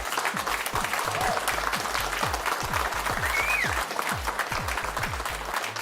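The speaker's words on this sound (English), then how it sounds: "Let's get a big round of applause for our PSPC champion, Alexander Shulko." A crowd applauds a PokerStars PSPC poker champion with dense, sustained clapping that runs throughout, while a low rhythmic thumping beat plays underneath.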